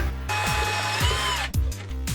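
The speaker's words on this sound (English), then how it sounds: "So I need to drill a little hole down there." A power drill whines steadily at close range, its motor pitch dipping briefly mid-run before spinning back up.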